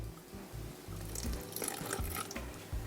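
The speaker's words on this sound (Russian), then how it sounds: "Добавляю еще молоко." Milk is poured into a pot of mashed potatoes as they are whipped, giving a soft, steady liquid pour with faint wet splashes close by, with no talking.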